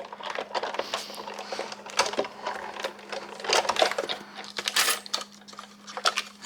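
Paper runs through a die-cutting machine with a clattering series of clicks and rattles, close by and irregular, with faint hum underneath.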